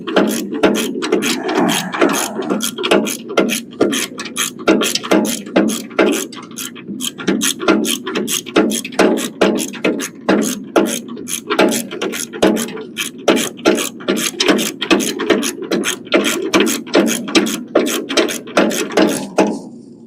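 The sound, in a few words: ratchet wrench turning a bolt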